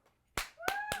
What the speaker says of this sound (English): give a round of applause for Shako and Audrey Cho